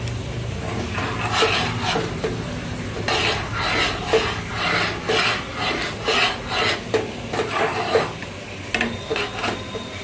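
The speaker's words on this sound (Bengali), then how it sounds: "একটু নেড়ে নিচ্ছি, কারণ নাহলে তলায় বসে যাবে, যার জন্য হালকা করে নাড়ছি।" Vermicelli payesh being stirred slowly in a pot, a steady soft scraping and rubbing of a spoon against the pan bottom in repeated strokes, close and moderately loud with no talk.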